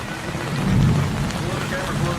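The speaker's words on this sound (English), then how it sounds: "a massive storm rolled in" Heavy rain hisses steadily on a camping trip in Chile while a low rumble of thunder swells and fades in the middle.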